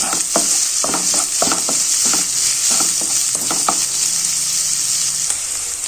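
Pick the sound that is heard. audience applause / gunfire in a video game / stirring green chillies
stirring green chillies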